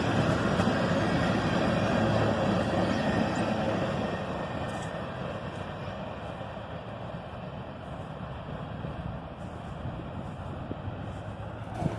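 A CSX freight train rolls past as a long, continuous broadband rumble with a rushing roar. It is loudest at first, then eases slightly and holds steady, with faint clanks and knocks from the cars over about twelve seconds.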